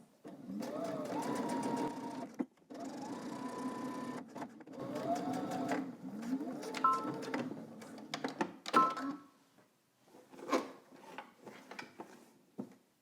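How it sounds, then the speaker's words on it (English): A sewing machine back stitches a 1/4 inch seam on a top, running in several close, steady bursts of whirring stitches separated by short pauses, ending with a few quick isolated clicks and stitches. "go ahead and back stitch at the top and at the bottom, again using a 1/4 inch seam allowance"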